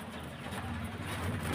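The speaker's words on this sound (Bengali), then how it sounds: "খুব ভালো কোয়ালিটির পায়রা।" Pigeons kept for sale at a bird shop in Murshidabad give low, steady cooing against a constant background hum, with no talking.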